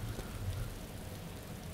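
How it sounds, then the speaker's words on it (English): Steady rain falls in the survival video game Arma 2 DayZ, a continuous soft hiss with faint low rumbles, quiet and even throughout. "Shelter from the rain."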